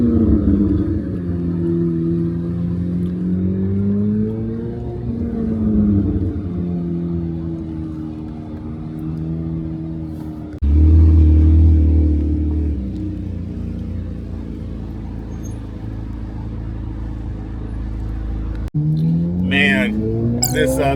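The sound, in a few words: Chevrolet Corvette C8 Z06 engine revving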